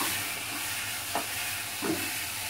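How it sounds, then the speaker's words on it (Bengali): Cabbage mixed with spices fries gently over low heat in a pan, a soft steady sizzle with two brief scraping stirs, no voices. "অল্প আঁচে বাঁধাকপিটা একটু হালকা ভেজে নেব"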